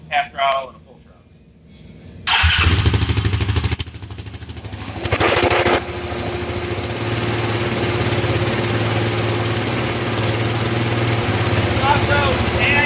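A Yamaha Grizzly 700 ATV engine runs on a dyno, jumping from quiet to a loud, steady drone that rises and settles through throttle steps and holds a sustained roar close by, with speech briefly at the start.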